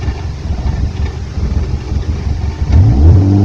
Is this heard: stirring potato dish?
no